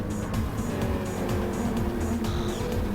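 Race cars in Gran Turismo Sport roar steadily close by with engines droning and shifting pitch, one car sweeping past as tires briefly squeal.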